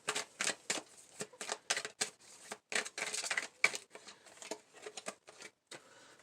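Tarot cards being shuffled and drawn for a reading, heard as a run of quick papery riffles and flicks in short bursts with brief pauses between them, close and fairly quiet, with no talking.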